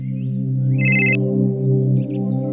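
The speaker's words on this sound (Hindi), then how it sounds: "बहुत देर से वहीनी का फोन आ रहा है।" A telephone rings in a home in India, a short bright electronic ring pattern sounding once over a loud, steady low drone that runs throughout.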